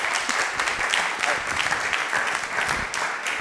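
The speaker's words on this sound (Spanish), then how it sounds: "darle un aplauso también a ese hombre" An audience at a journalism talk claps steadily for several seconds, a dense, continuous round of applause in a hall, with a few faint voices underneath.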